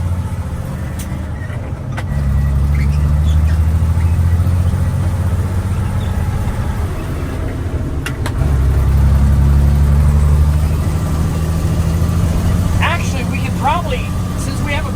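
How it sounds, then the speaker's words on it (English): An old Volvo semi truck drives through a harvest field, its low diesel drone steady and loud throughout, with a deeper surge midway as it pulls, and brief higher chirps near the end. "We just drive the truck through the field."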